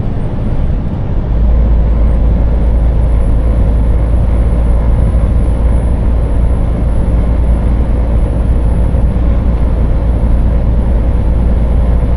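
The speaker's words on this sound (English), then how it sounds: "now I can hear all this wind noise" Wind roars through the open window of a loaded truck cab on the road: a loud, constant, rushing blast that holds steady for about twelve seconds, with no speech.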